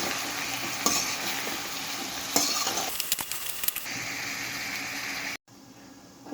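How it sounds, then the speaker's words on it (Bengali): Bitter gourd and dal being stirred as they fry with turmeric powder in a pan, with steady scraping and sizzling, a few sharper clatters, and a brief drop-out near the end. "এখন আমি এগুলোকে নাড়াচাড়া দিয়ে দিচ্ছি"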